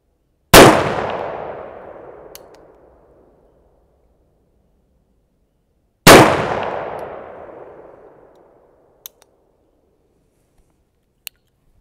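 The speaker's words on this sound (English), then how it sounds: "So I'm gonna take a couple more shots and see what we can get." Two loud, sharp gunshots from a Bond Arms Defender pistol in .45 Colt, spaced several seconds apart, each followed by a long, decaying outdoor echo, then a few faint clicks.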